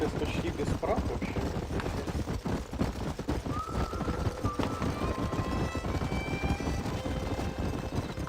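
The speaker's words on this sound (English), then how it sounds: "There's the horses!" Horse hooves clip-clop in the Western game Red Dead Redemption, a steady rapid patter of hoofbeats under game ambience, with faint whinnies and voices nearby.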